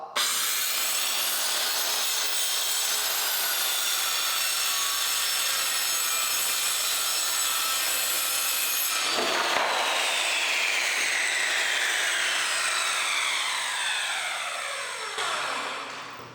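A circular saw whines loudly and continuously as it cuts through wood, then the motor pitch drops and winds down toward the end.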